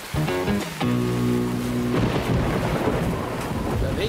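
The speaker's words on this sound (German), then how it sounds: "Der Regen hat ziemlich zugenommen." Heavy rain pours steadily with a deep rolling thunder rumble, while a brief sustained tonal sound with harmonics plays at the start before giving way to the dense wash of rain.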